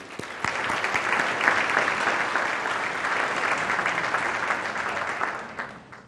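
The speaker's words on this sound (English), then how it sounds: "would you give a round of applause for all of our sponsors?" A conference audience at an economic forum gives a sustained round of applause for sponsors, dense, even clapping from many hands that holds steady for about six seconds before tapering off.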